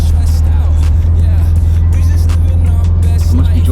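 VW Karmann Ghia rat rod cruising on the road, engine running at a loud, steady rumble up close, with faint clunks and rustles as it is shifted through the gears.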